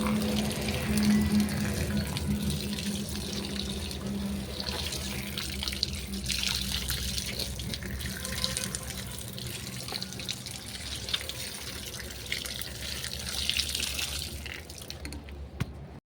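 Water pours steadily from a newly installed pipe fed by a freshly drilled borewell. The close, continuous rushing splash lasts throughout with no pauses and no voices.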